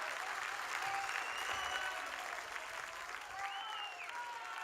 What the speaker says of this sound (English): This is Messing with the Kid live with Rory Gallagher. Big round of applause.